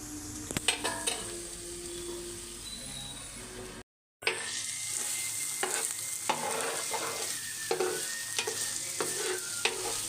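Boiled potatoes in an aloo masala curry simmer and sizzle softly in a pan, with occasional stirring scrapes and clicks and a brief silent gap partway through; no one talks.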